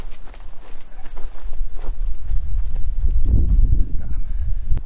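Calves walk over ground as they are herded into a pen. Their hooves make close, steady, overlapping thuds and shuffles that grow heavier and louder toward the end, with no talk over them.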